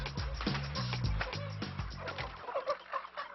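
Broiler chickens clucking on a poultry farm during night catching, a busy chorus of close, overlapping clucks and squawks that thins and scatters toward the end.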